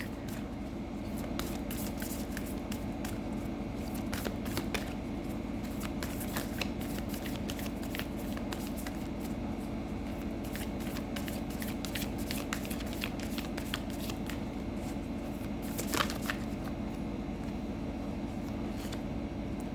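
A Moonology oracle card deck is shuffled steadily and continuously at close range, a soft papery riffling that runs without pause, with no voice over it.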